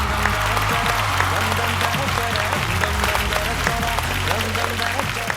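A studio audience at a Malayalam TV comedy show gives steady, dense applause to welcome a mimicry performer, with music playing underneath throughout.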